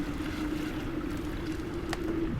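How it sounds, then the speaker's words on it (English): A boat moving on water gives a steady, even rumble with a low engine-like hum and a soft wash, continuous throughout, with no voices. "We'll continue our journey by boat from here."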